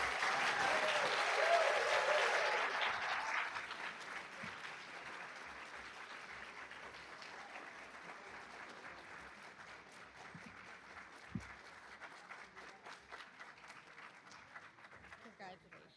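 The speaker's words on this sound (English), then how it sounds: "Please give these students a round of applause." Applause for students at a Brightpoint Community College PTK induction ceremony: a loud, dense round of clapping for about three seconds, then thinning into quieter scattered claps over room murmur.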